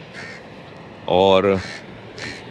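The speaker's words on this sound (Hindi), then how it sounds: "कौओं को, कौए क्यों बोल रहे हैं टाएं टाएं टाएं टाएं?" Crows cawing outdoors among tall buildings, grass and trees, with short harsh calls at the start and end. Someone speaks briefly in the middle over them.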